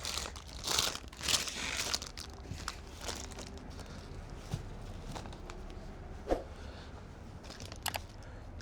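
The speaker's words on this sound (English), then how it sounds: "Let's get it out of the bag." Plastic bag holding brined corned beef brisket being opened and pulled away, with loud crinkling bursts at the start, then softer scattered rustles and a sharp crackle before fading.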